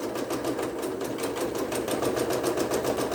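A sewing machine stitching a quilt block runs at an even pace, its needle producing a fast, regular mechanical chatter that stays close and steady throughout, with no talking.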